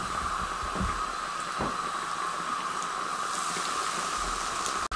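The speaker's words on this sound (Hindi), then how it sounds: "ये भी उसी तरीके से मैं फ्राई कर लूँगा" Chicken pockets fry in hot oil with a constant close sizzle and bubbling hiss, steady throughout with a few soft knocks and no voices.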